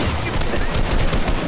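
Loud, close gunfire from Fortnite crackles in rapid overlapping bursts, filling the brief moment with dense shots.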